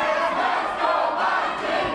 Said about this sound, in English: Vocal crowd here at Commerce Casino.